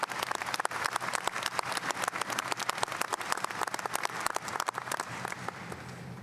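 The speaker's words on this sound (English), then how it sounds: "How about a round of applause for Dr. Postal" Applause from the audience at a medical school graduation ceremony, dense and lively with crisp individual claps standing out, fairly close and continuous throughout.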